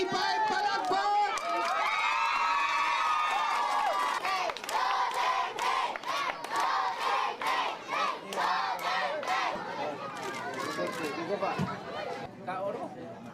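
A large crowd at a dinner gathering of informal settlers in Davao erupts in loud cheering, shouting and clapping, a dense roaring mass of voices that swells, then continues in rolling bursts of cheers and chatter.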